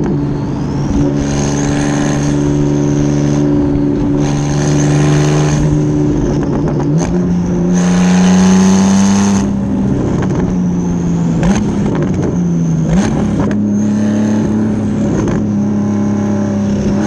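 A Porsche 911 GTS engine revs hard while driving, rising and falling through gears in repeated loud sweeps, close and continuous for the whole stretch with no talking.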